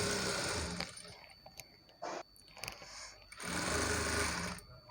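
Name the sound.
sewing machine stitching Punjabi dress side slits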